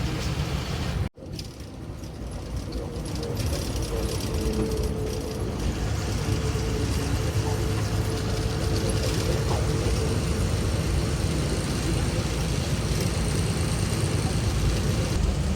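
Steady engine drone and road rumble from a truck driving on a highway in Andhra Pradesh, continuous and close throughout, with a brief clunk near the start and no talking.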